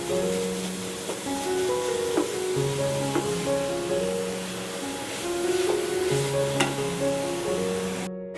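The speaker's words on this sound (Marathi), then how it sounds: "गूळ जिथपर्यंत वितळत नाही तिथपर्यंत ह्याला हलवतच राहायचं सारण." Coconut and jaggery modak filling stirred in a pan over low gas, giving a steady close sizzling hiss with soft scraping strokes running under a faint tonal background hum.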